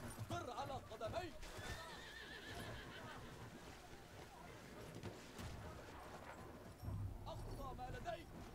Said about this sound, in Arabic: حصان جيد